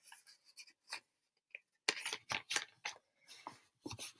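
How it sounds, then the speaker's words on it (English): A sheet of paper being folded, close and quiet, with irregular crisp rustles and sharp creasing scrapes separated by brief silences. "let's do one fold one way"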